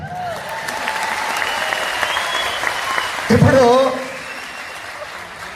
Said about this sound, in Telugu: కరెక్ట్ అయితే క్లాప్స్ కొట్టాలి